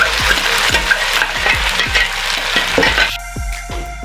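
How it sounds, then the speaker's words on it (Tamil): Tomato paste and onion sauté loudly in a hot pan for egg gravy, with a steady close sizzle and repeated spoon scrapes and stirs. No one speaks. "இதை வந்து நல்லா பச்சை வாடை போகிற அளவுக்கு நல்லா வதக்கிக்கணும்."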